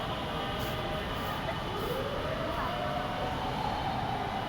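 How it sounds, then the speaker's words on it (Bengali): A metro train hums and rumbles steadily through a station in Dhaka, with a rising electric whine and faint background voices. "মেট্রো রেলের অপেক্ষায় দাঁড়িয়ে আছি এখানে"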